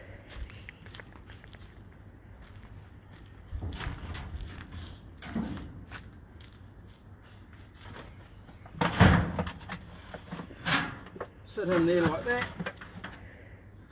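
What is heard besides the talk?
smoker door being opened and shut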